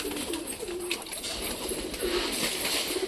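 Pigeons coo repeatedly in soft, low, throaty phrases against a steady background hiss, fairly close and continuous, with no one speaking.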